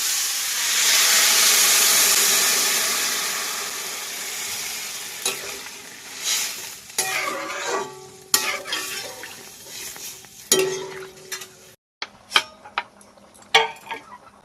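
Lightly fried potatoes for a white curry hiss and sizzle loudly as water hits the hot pan, the burst of steam fading into quieter bubbling broken by clanks of a pot and utensil.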